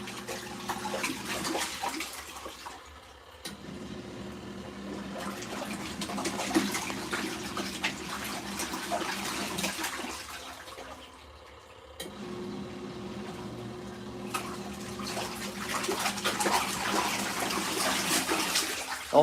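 Rinse water in an LG ThinQ MEGA Ultimate washer running a deep wash cycle gushes and sloshes loudly in long surges, broken by brief pauses and a low drum rumble.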